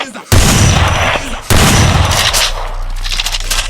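Two heavy gunshot blasts from a shotgun in a video game, the first at the start and a second about a second later, each loud with a booming low end and a decaying tail, followed by lingering game ambience.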